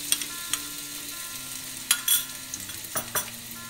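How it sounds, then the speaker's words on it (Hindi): Chopped garlic cloves fry in hot oil for restaurant-style veg Manchurian, giving a soft, continuous sizzle punctuated by scattered scraping and stirring knocks up close, without speech. "ऑयल हमारा गर्म हो गया है तो चलो इसमें गार्लिक क्लोव्स डाल देते हैं।"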